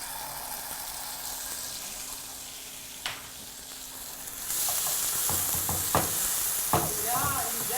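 Garlic and chili are stirred in hot oil, giving a steady sizzle that grows louder halfway through, with scraping stirs and light clatter close by.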